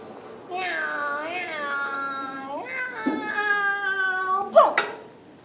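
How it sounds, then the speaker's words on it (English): A cat meows close up, letting out several drawn-out, wavering meows one after another, ending in a sharper, higher cry. "My cat does that every time, but she never gets in trouble."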